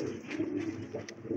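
A domestic pigeon gives a low, throaty coo close by, a soft rolling call over a faint background murmur.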